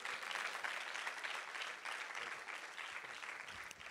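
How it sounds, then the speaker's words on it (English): A church congregation claps hands at a worship service, a dense steady patter of many hands sustained throughout at moderate, even loudness with no voices standing out. "Clap your hands and say hallelujah"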